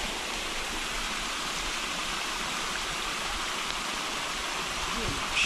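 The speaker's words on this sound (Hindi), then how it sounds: "अभी यहाँ से काफ़ी पानी आ रहा है खेत के अंदर" Floodwater from a road pouring into a farm field after heavy rain makes a steady, dense rushing and gushing roar, close and unbroken throughout.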